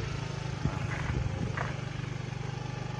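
A motorcycle rides along a narrow footpath with its engine running at a steady low putter throughout, accompanied by light clatter and scraping from the rough path.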